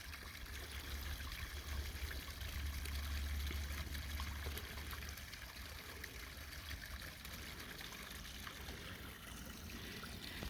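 A natural spring waterfall pouring into a pool outdoors, a steady soft trickling and splashing flow that runs continuously, heard from a short distance with no voices.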